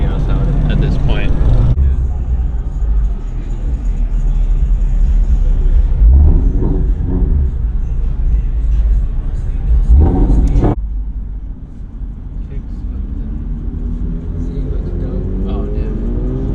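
Cars at a car meet, including Porsches, rumble and rev loudly nearby, engines rising and falling with a sharp cutoff midway, under chatter from people nearby.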